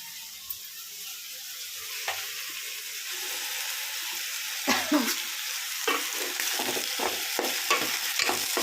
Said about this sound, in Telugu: ఇలా బాగా ఫ్రై అవుతే చాలా బాగుంటుంది చికెన్ కర్రీ.